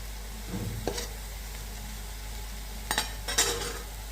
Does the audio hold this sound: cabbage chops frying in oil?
yes